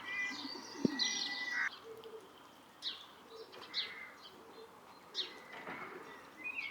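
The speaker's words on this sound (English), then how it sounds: "There's pigeons right there." Racing pigeons coo softly among scattered bird chirps, a few short calls popping up over a quiet outdoor background.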